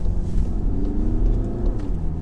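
A 2017 VW Tiguan with a 150hp engine accelerates hard out of a busy roundabout, its engine droning in a steady, loud rumble with rising harmonics as it pulls away.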